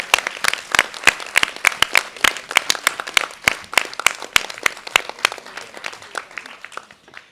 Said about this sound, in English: let's save the most enthusiastic applause to our speaker today